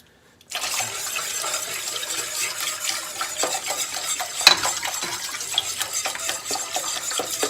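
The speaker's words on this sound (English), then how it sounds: "Just go ahead and whisk that in as we go." Vegetable stock being whisked in a pot, a steady close scraping and sloshing of whisk against metal and liquid with small clinks, continuous and without talk.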